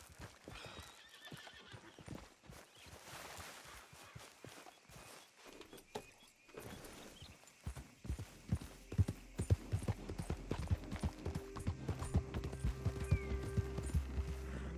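Horse hooves clip-clop in Red Dead Redemption in a steady rhythmic pattern, faint at first then louder and closer, with a low engine-like hum building underneath.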